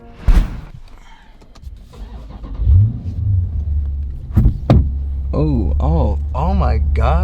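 Modified 2016 Dodge Challenger 392 Scat Pack with its mid mufflers deleted rumbles up close, giving a few sharp revs before settling into a loud, throbbing low idle, with voices briefly heard over it.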